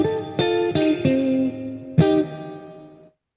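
Electric guitar through a Boss Katana 100 head's spring reverb: four sharp struck chords in quick succession, a pause, then a fifth, each ringing with a wet, splashy tail that fades out alone.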